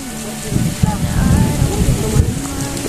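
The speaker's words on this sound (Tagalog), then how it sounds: "Ayan o, oh, lakas ng ulan." Heavy rain pours steadily during a rice-planting day in a paddy field, with low rumbling thunder beneath it, loud and close throughout.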